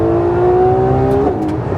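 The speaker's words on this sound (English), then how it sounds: "Listen to this V12." A powerful McLaren 12Cilindri V12 engine revs and holds a steady, rising drone up close, with a brief shift in pitch near the end; no voices.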